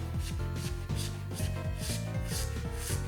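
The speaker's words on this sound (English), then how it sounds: "I'm just kind of rubbing the washer into the magic sponge thing." A pinball drop-target washer from a System 11 Bally/Williams machine being rubbed against a magic sponge, a close, repeated scrubbing rasp in a steady back-and-forth rhythm of roughly two strokes per second, with no speech.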